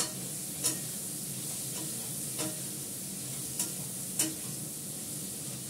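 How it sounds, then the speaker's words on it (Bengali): Food sautéing and being stirred in a pan over a gas flame, a steady close sizzle with a few sharp clinks of the utensil against the pan. "আমি এটা কষাতে থাকবো, বসবে এখন, গ্যাসটা কমিয়ে কষাবো।"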